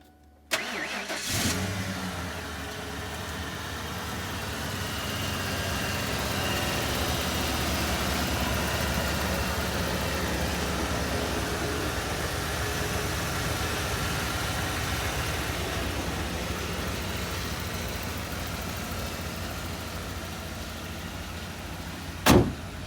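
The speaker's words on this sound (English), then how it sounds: "We'll fire the truck and kind of show you everything's working so you can hear that" A truck engine cranks and catches with a sharp start, then settles into a steady, even mid-pitched idle for around twenty seconds, recorded up close, with a brief knock near the end.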